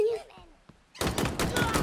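Halo Infinite gunfire breaks out suddenly after a quieter stretch of voices and game tones, then a dense run of loud, close rapid shots continues to the end.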